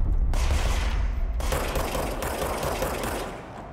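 Enemy gunfire in the game Control, a dense, loud, continuous rattle of rapid shots with a few abrupt shifts in intensity, largely free of talk.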